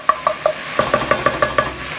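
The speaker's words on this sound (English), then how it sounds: "Getting that garlic browning, adding some flavor to the cast iron before I put the meat in" Garlic browning in a cast iron pan over low-medium heat, a soft sizzle under a run of about ten light scraping strokes in a quick, fairly even rhythm, close by and without any voices.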